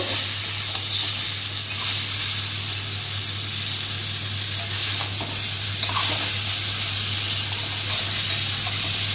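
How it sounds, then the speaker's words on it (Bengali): Malabar spinach frying in a pan with turmeric and salt, cooked with a hilsa fish head: a steady sizzling hiss runs throughout over a low hum, with a few faint stirring touches and no talk. "এই সবজিটা ভালো করে ভেজে নেব।"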